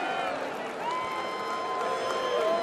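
A convention crowd boos and cheers Kentucky Senator Mitch McConnell as he casts the state's delegation votes, forming a dense, steady roar of many voices that holds at an even level with no breaks.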